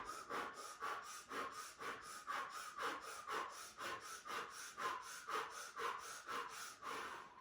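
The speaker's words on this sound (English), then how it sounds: "O mouth breath of fire." Breath of fire yoga breathing: rapid, rhythmic forceful exhales through the nose, about two per second, close and steady for several seconds with no speech.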